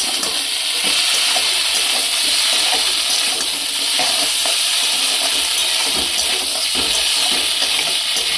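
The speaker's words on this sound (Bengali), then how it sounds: "এবার মশলার উপরে দিয়ে দিচ্ছি ছোটো ছোটো করে কুচিয়ে রাখা বেগুন" Chopped eggplant sizzles steadily in spiced masala in a pan, a dense continuous hiss and crackle with no talk over it.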